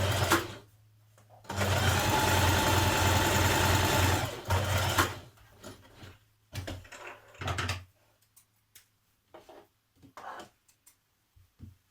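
A sewing machine runs a continuous stitching burst for a few seconds on a sports bra top seam, close and steady, then short stop-start stitches follow with quiet handling noises between.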